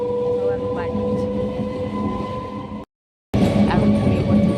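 Inside a moving passenger train heading home, a loud, steady rumble carries a constant tonal hum. It cuts briefly to silence partway through, then resumes at the same level.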